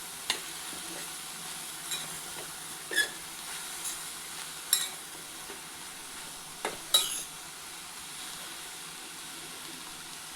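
Cabbage and carrot thoran is stirred in a pan, with scattered light scrapes and taps of a spoon over a faint, quiet sizzle and long still gaps, and nobody talking.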